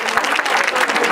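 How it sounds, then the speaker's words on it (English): An audience applauding after a match at a stage event, dense steady clapping from a crowd that stays loud and unbroken for the whole moment. "Let's have a big round of applause for both."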